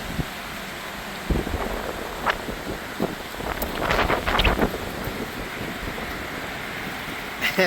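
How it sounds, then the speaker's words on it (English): Strong wind buffets the microphone on an Appalachian Trail mountaintop, making a steady roar with gusty bursts, and faint voices can be heard in places. "It's crazy windy up here."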